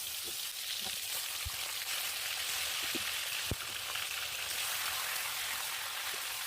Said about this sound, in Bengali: এবার চিকেনগুলোকে ভেজে নেব।